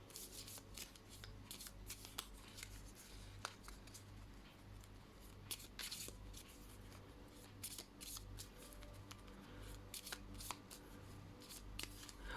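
Cards shuffled and pulled in a tarot-style reading: a long run of quiet, close riffling and snapping card flicks repeating through the whole stretch, soft and crisp with no talk.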